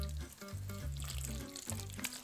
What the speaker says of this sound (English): Now we water.